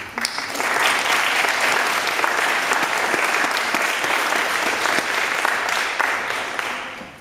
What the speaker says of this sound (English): So a collective applause to all of us here.